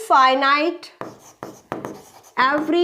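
Chalk or marker strokes on a board during a topology mathematics lecture, a few short scratchy bursts in quick succession between stretches of a nearby voice talking.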